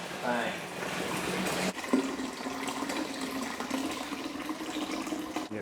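Water pouring steadily into a mead fermenter being topped up to 23 litres, a continuous rushing fill with a voice talking over it.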